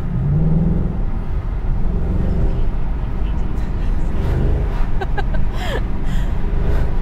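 A project car's engine rumbles low and steady while driving, a constant deep drone from inside the cabin; someone talks over it, with some faint clicks and a brief higher sound near the end.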